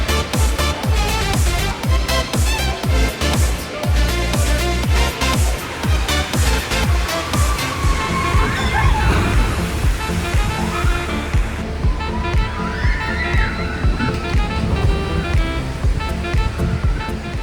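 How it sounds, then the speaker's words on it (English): Log flume ride at Six Flags Great Adventure's Frontier Adventure area, with loud, steady rushing and splashing water surging continuously throughout, close and dense, occasionally rising in intensity. "over here in the Frontier Adventure to ride the log flume"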